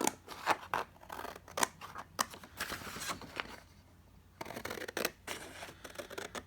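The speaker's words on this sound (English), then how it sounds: "Let's cut that out." Scissors cutting out a paper tag pocket, a series of close crisp snips and paper rustles in an irregular rhythm, with a short pause midway.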